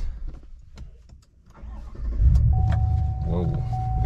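A 2021 Chevrolet Silverado 1500 pickup engine cranks and fires up, settling into a loud, steady idle with a low rumble, preceded by quieter clicks and movement inside the cab.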